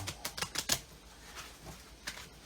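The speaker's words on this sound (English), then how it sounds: "one more shuffle" A large deck of oracle cards is shuffled, giving a quick run of four or five crisp riffling flutters followed by a couple of softer card slaps, close and quiet in a still room.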